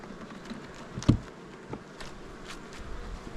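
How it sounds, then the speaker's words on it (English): Honey bees buzz as a steady hum around hive frames in an apiary during spring splits, with one sharp knock and a few faint taps over the drone. "I still got to shake a couple frames of bees"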